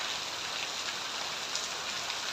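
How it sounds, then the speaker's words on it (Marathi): Heavy rain pours steadily at a home, a dense even hiss of drops on surfaces, fairly faint and constant throughout with no talk. "एवढा जोरात पाऊस चालू आहे बघा"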